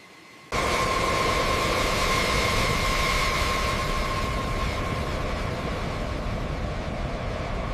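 A B-52 Stratofortress bomber takes off: a loud, steady engine roar with a faint whine on top starts abruptly after a moment of quiet and holds unbroken to the end. No one speaks.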